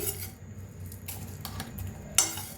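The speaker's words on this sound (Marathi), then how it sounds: "बडीशेपू असं हलकंसं भाजून घेऊया" Fennel seeds lightly roasting in a pan are stirred with a spoon, giving faint scraping and a few sharp metallic clinks of spoon against pan, quiet and close with no talking.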